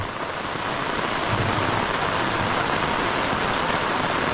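Heavy rain pours steadily in an open cucumber field, a loud, dense, unbroken hiss of drops striking the ground and an umbrella throughout.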